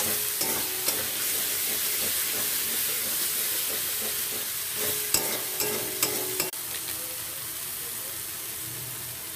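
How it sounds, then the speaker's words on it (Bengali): Food sizzling in a pan while being stirred, a steady close hiss of frying with scattered scraping and clinking of the utensil against the pan. "এই যে ভালো করে নেড়ে ছেড়ে ভেজে নিচ্ছি।"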